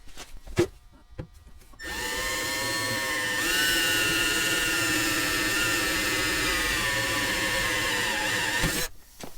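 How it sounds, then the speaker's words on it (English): A few taps, then a power drill whirs steadily for several seconds, pitch rising slightly as it bites into the metal of a Scion xB hood, then stops. "Now that we got the hole drilled out, pop it into place."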